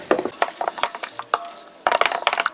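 Kimchi seasoning of glutinous rice porridge, minced ginger, minced garlic and chili powder being stirred, making quick rattling, clicking scrapes in uneven bursts with a brief pause in the middle.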